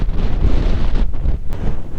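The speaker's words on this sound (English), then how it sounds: "it might be a bit too windy" Strong wind gusts blowing outdoors beside a river where a large kite is flown, a loud, continuous roar buffeting the microphone for the whole stretch with no talk.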